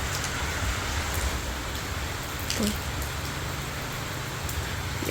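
Steady night rain in Thailand falling on surfaces, a dense continuous hiss with occasional heavier drips and faint background rumble, even and unbroken throughout.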